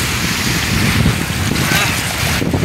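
Sea waves wash and surge continuously against rocks on the shore at Diamond Harbour, mixed with gusty wind noise, loud and close.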